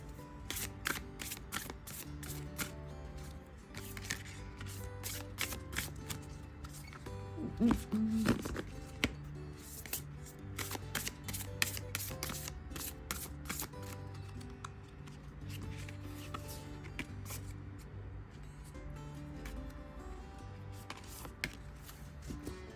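Tarot cards shuffled to pick two cards, a rapid run of light card slaps and riffles, fairly quiet and close, over a low steady background hum without speech.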